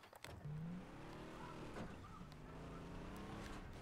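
A car engine in the video game Far Cry 3 revs and drones up and down in pitch, with changing gear-like tones under a steady mechanical roar.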